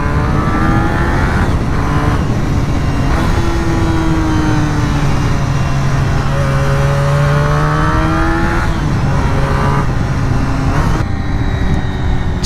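Honda RVF400 sports motorcycle ridden hard through corners, its engine loud and close, pitch rising and falling with each gear change and throttle roll, with steady wind rush throughout.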